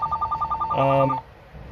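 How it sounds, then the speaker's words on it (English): A telephone rings indoors with a rapid electronic trill of short, evenly spaced pulses, then a brief louder, fuller burst before it cuts off. "that's the phone."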